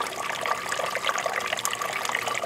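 Water trickles and splashes through the drip irrigation lines of a vertical aquaponic grow tower built from repurposed bottles, producing a close, continuous bubbling patter with no speech.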